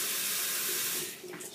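Water running steadily down a newly unclogged bathroom or kitchen sink drain, a continuous close rushing flow that eases slightly toward the end.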